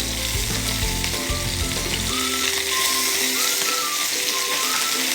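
Fish fries in a pan, giving a loud, dense sizzle that crackles continuously and close up. Some low clatter comes near the start, and no voices are heard.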